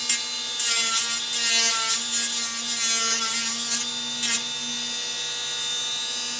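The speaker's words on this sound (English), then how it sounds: "So let me just sand this down with the Dremel." A Dremel rotary tool sands a homemade overlay for a modded Arcade1Up control panel, giving a steady high-pitched motor whine with gritty scraping that briefly shifts as the bit presses and lifts, continuous and close with no speech.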